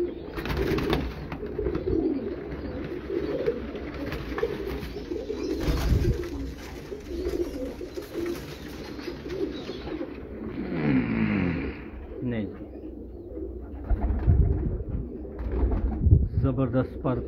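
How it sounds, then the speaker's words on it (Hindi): Blue-footed pigeons of a Karachi breed coo in soft, throaty bursts close by, mixed with voices, other bird calls and a vehicle revving past. "जबरदस्त परकुंदे के मालिक ये कबूतर।"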